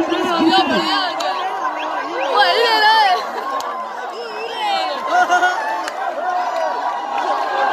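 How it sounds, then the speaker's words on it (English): A cricket crowd cheers and celebrates a tournament victory at a valley ground on a mountain near Abbottabad, Pakistan: a steady, dense roar of many voices with shouting and chatter, swelling at moments as fans run onto the field. "This is the sheer jubilations of the crowd."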